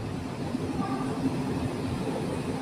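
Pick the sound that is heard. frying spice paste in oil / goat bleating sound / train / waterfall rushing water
train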